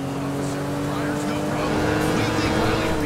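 A steady car engine drones loudly in GTA 5, holding a constant pitch with a slight rise in intensity, blended with other game sounds and possible voices.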